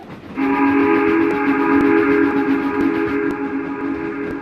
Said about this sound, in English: Then he heard a whistle that was not familiar to him,